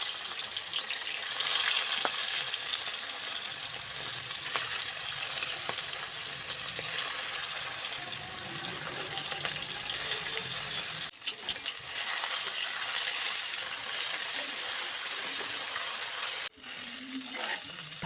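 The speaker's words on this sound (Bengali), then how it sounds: "মাছগুলো ভেজে নেব।" Small hilsa fish pieces fry in hot oil in a wok, a close, continuous crackling sizzle with a couple of brief dips.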